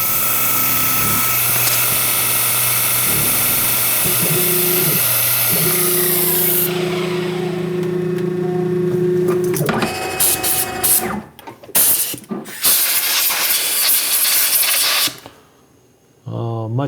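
A CNC mill runs a contour and chamfer pass around the edge of a toolpost dial indicator part. A sustained high machine whine drones for several seconds, then gives way to uneven cutting chatter, clicks and brief pauses before falling quiet.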